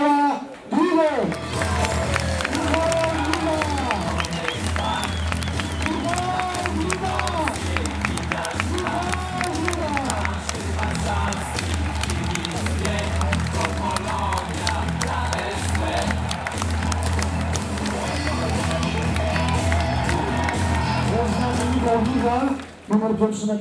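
Loud, sustained applause and cheering from a crowd at a Polonia Warsaw football squad presentation as the goalkeeper is introduced, steady clapping throughout with a voice over a PA system.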